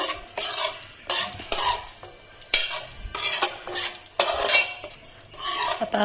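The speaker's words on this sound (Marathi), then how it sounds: "आता हे व्यवस्थित मिक्स करून घेते आणि म्हणजे इतका दही टाकल्यावरती इतकं छान सुगंध यायला लागला" Yogurt and ground masala paste for vegetable biryani are stirred in a pot, a series of rhythmic wet scraping strokes with metal clinks roughly every half second, close up and without speech.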